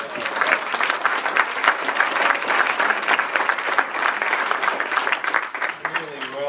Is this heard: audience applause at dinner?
yes